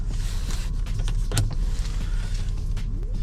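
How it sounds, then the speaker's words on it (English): Power-operated rear sunroof of a 2021 Toyota Alphard luxury van whirring as its electric motor runs steadily for a few seconds, close and fairly quiet over a low cabin hum. "You also have another sunroof at the back, which is power operated."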